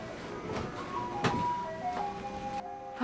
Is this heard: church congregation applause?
no